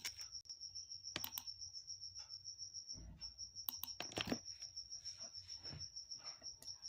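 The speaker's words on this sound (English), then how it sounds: "Let's do some typing and stuff." Scattered keystrokes tap on a computer keyboard during a coding session, faint and irregular in short bursts, set against a steady high cricket chirring in the background.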